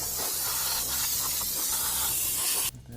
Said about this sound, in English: I'm going to take this opportunity to go ahead, spray that down with a little CRC